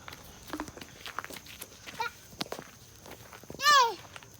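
Goats on a farm, a single clear bleat late in the clip after scattered footsteps and light shuffling, with faint voices nearby.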